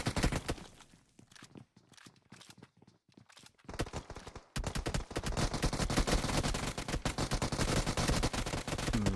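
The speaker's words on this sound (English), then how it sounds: "Candy trying to figure out where these bullets are coming from" Video game gunfire in an esports match, quiet scattered shots at first, then dense rapid automatic fire and repeated bursts, loud and continuous toward the end, with no talking.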